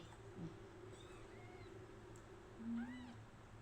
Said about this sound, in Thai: ลูกแมวแมวน้อย